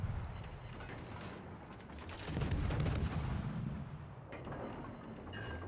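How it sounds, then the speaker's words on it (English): Warship guns firing in World of Warships: Legends, a dense rumbling run of heavy booming shots. The salvo swells to its loudest midway before easing, with no voices over it. "Might as well open fire now."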